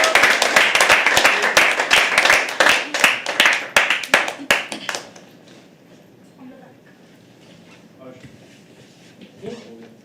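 Audience clapping welcomes a performer onto the stage at a live poetry open mic, a burst of dense, loud handclaps that fades out after about five seconds into quiet room tone with faint voices.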